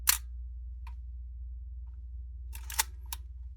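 A Nikon F3 film camera's shutter fires with a sharp mechanical click at the start, followed by a faint tick and then a quick cluster of clicks near the end, all close and crisp over a low steady hum.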